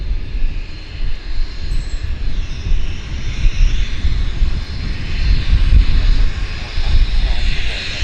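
A United Airlines jet taking off at Vancouver airport, a broad engine roar building steadily over several seconds from a moderate distance, loud and continuous throughout.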